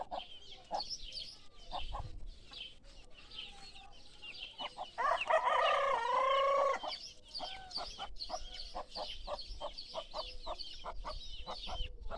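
A mother hen clucking steadily in short repeated calls beside her chicks, with a rooster crowing loudly midway; thin peeping of chicks comes and goes in the background, in a village in Sungurlu, Çorum.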